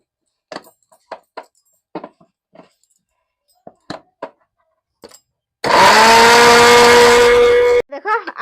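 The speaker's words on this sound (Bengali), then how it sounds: "দেখো আমি টমাটোরটা গ্রাইন্ডিং করে নিচ্ছি।" An electric mixer-grinder grinds tomatoes in a burst of loud, steady whirring lasting about two seconds, preceded by scattered clicks and clatter of handling the jar and followed by a brief rattle as it stops.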